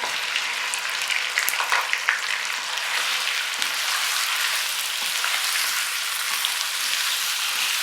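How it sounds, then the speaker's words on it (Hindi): Chicken frying in a pan with garlic for lemon pepper chicken karahi, a steady bright sizzle like hard rain that holds evenly, close and fairly loud, with a few small crackles and no talk. "लहसुन हल्का सा फ्राई हो चुका है। अब इसमें चिकन डालेंगे"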